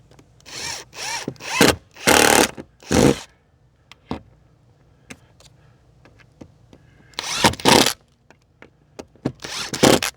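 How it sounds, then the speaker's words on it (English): A power screwdriver drives screws into wood during an off-grid solar power build: repeated loud whirring bursts, each lasting about half a second to a second, separated by quiet gaps and small clicks, close by. "I'm gonna use this screw thing again."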